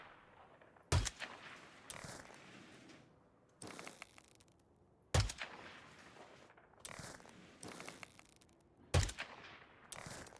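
Gunfire in the video game HitGran: five or six sharp, loud shots spaced about every one to two seconds, each with a short decaying tail, over a low ambient background with no talk.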